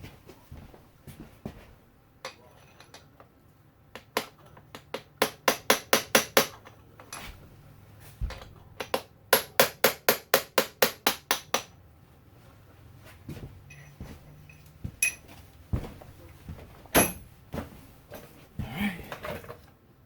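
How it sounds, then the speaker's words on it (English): Hammer taps on the starter of a 2019-2023 Yamaha YZ250F engine during a motor rebuild, sharp metallic knocks in fast bursts of rapid strikes separated by pauses and a few single louder blows. "give the starter some lug taps"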